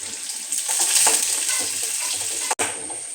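Onions and curry leaves fry in a pan for a homestyle Kerala curry, giving a steady, close crackling sizzle with light stirring scrapes. A brief dropout cuts the sound near the end, and no one speaks.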